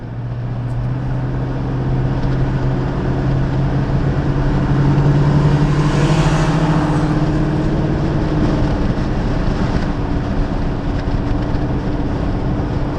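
Rover car accelerating along a road, a steady engine drone with tyre and wind noise from inside the cabin, pitch rising slowly as speed builds, no voices.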